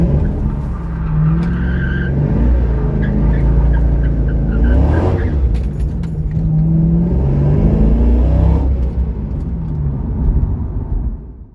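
A supercharged C5 Corvette slides on a winter road, its engine revving loud and steady with rough tire skid noise running throughout, swelling in two bursts near the middle and end.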